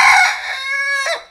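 Rhode Island Red rooster giving one short, loud, close crow with a bright harmonic tone, alone without talk.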